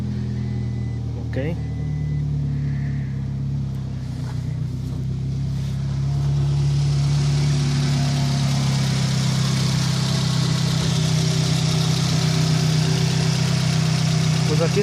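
A 2009 Toyota Scion tC engine that previously would crank but not start runs and settles into a steady close idle, growing somewhat fuller partway through, with a brief spoken word early on.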